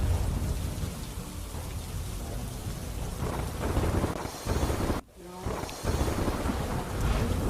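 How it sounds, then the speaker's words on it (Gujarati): Heavy rain pours steadily in Kheda district while low thunder rumbles underneath, with a brief dropout midway before the downpour resumes. "અચાનક ધોધમાર વરસાદ વરસ્યો"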